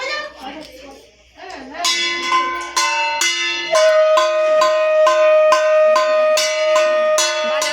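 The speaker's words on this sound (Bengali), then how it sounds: "স্পেশাল মানুষ ঘন্টা বাজাচ্ছে স্পেশাল মামা ঘন্টা বাজাও ঘন্টা বাজাও" Hand bell rung at a home Kali puja, struck in a steady run of bright, ringing strokes that grow louder and keep going, with a voice faintly heard at the start.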